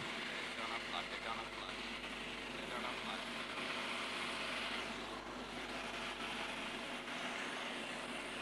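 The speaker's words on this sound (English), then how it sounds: "The helicopter is currently hovering at about 50 meters" A military helicopter hovers at about 50 meters during a rescue-team insertion display at an Independence parade in Ghana, its steady rotor and engine roar continuous and fairly distant amid crowd noise and a voice speaking over it.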